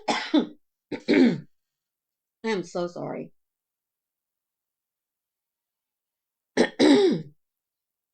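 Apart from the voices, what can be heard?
throat clearing and coughing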